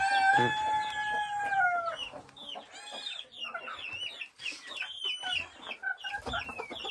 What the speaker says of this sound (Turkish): Tavuklarımızı önce bir salalım.